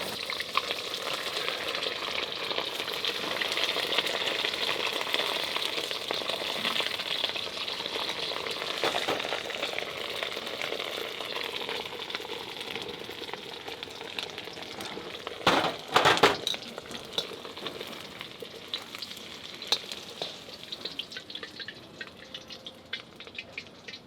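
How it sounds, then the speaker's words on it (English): Salted beef deep frying fast at very high heat in oil, giving a dense continuous crackling sizzle that stays close and steady, with a brief louder burst of bubbling partway through and no speech. "we want to deep fry this very fast, very high heat"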